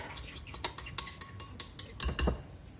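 A spoon stirs a lion's mane mushroom crab cake mixture in a bowl, giving a string of faint, quick clinks and scrapes that grow a little louder near the end.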